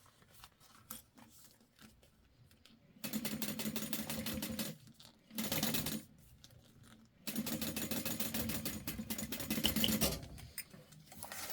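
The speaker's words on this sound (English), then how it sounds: "you want to stitch all the way to the ends to keep that jelly vinyl folded over" Sewing machine stitching clear jelly vinyl, running in two long rapid mechanical bursts with a short spurt between them, close and fairly quiet, with pauses of faint clicking.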